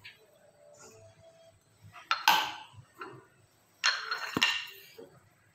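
A spoon scrapes and clinks against a bowl of milk, sugar and pastry cream powder in a few short bursts, with quiet pauses in between, close by.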